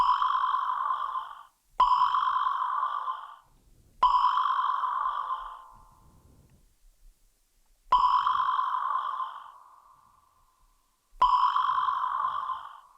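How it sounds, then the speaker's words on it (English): Bright synth tones, resampled with reverb on an SP-404 MKII sampler, ring out in five separate bursts, each trailing off into a long reverberant tail that decays into silence between hits. "And let's add some reverb."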